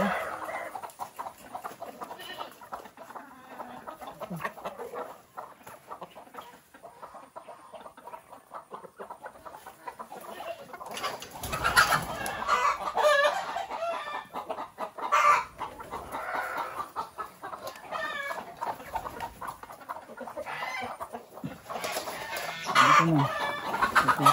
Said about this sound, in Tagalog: Kainin na natin yung mga manok.